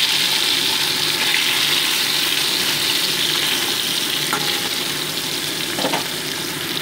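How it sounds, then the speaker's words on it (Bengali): Sea morola fish frying in hot mustard oil in a wok, a loud continuous hiss and sizzle at close range, with a few brief clinks or stirring touches near the end and no speech. "কড়াইতে সরষের তেল গরম বসিয়ে মাছগুলোকে ভেজে দিচ্ছি"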